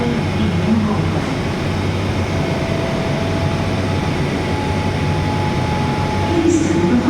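London Underground Central line train running through a tunnel toward Ealing Broadway, a continuous loud low rumble and roar with steady tonal hum and faint whine, unbroken for the whole stretch.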